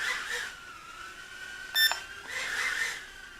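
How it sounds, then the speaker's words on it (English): Furibee F36 drone gives a brief high electronic beep as it enters flip mode, heard over its faint steady propeller whine indoors. "when it beeps, it's in flip mode"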